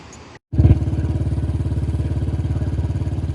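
A motorcycle being ridden on a hill road, its engine starting abruptly after a brief gap and then pulsing in a steady, loud, rapid throb close to the listener.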